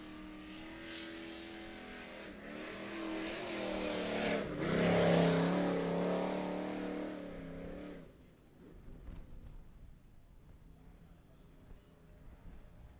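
Race cars at a Minneapolis sportsman racing event roar around the last turn before the finish line, a faint distant engine drone swelling and peaking mid-way, then fading into quieter crowd ambience.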